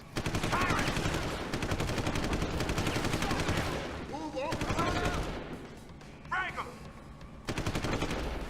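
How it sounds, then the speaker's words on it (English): Rapid gunfire from a video game, bursts of automatic shots with some heavier blasts, loud and near throughout, pausing briefly midway before resuming. "they're still shooting at that grate"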